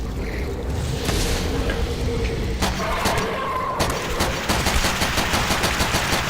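Sniper rifle fire in Call of Duty: World at War, a series of sharp loud cracks, a few spaced shots and then a faster run of rapid reports near the end, close and punchy over low game ambience with no talking.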